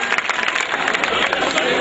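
An audience claps at an Urdu poetry recital in Gorakhpur, a dense burst of applause with voices mixed in throughout.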